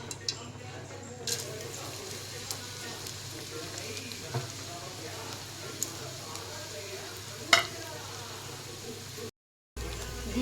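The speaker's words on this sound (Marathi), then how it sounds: "त्यात आपण झिंग्या फ्राय करून घेणार आहोत" Shrimp frying in a pan for a home-cooked Marathi family meal, a steady low sizzle running throughout with faint clicks and one brief sharp clatter near the end.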